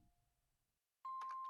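Doorbell in the Cthulhu adventure game Gibbous, a clear chime sounding abruptly after a quiet stretch, ringing on briefly with a few pulsing tones.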